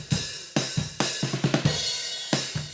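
Drum kit heard through overhead microphones, mostly bright cymbal wash and crashes with hits in a steady groove, kick and snare thumps underneath, continuous and fairly loud.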